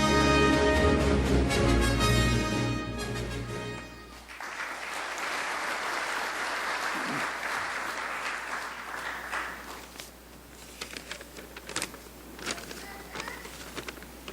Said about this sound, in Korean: 여러분, 다시 한번 축하의 박수를 주시고요.